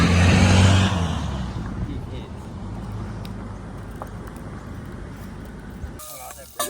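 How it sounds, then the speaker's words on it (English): Cars roar past doing burnouts, a loud rush of engine and tyre noise that fades into a lower, steady rumble with traffic in the distance, while someone talks over it. "Some hillbillies coming past doing burnouts in their cars."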